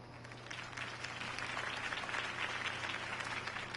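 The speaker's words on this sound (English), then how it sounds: "could have heard that applause" Steady applause from a large video game crowd, a dense wash of clapping that holds evenly throughout with no voices standing out.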